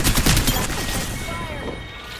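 Apex Legends gunfire: a quick flurry of close shots at the start, then a rumbling, fading tail of game battle noise.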